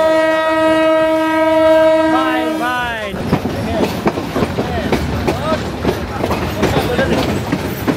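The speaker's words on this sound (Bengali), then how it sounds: "ওস্তাদ এটা খুব ট্রেন ঢুকছে, ওস্তাদ ঢুকছে।" A train horn sounds loud and sustained for about three seconds as a train arrives at a station, then gives way to rumbling, clattering wagon noise and busy platform ambience, with voices in the background.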